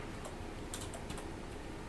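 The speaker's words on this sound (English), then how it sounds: "I'll just type, "This is a test,"" Soft clicking of keys typed on a keyboard, a quick run of light taps over a faint, steady background hiss, quiet and close with no talking.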